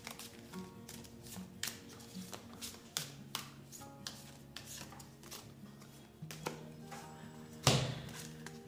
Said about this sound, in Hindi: I take 2 cards from this tarot